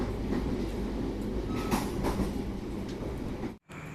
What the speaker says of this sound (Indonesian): Saat ini perjalanan KA 115 Saung Gali sudah tiba di stasiun Karawang, masuk di jalur 3.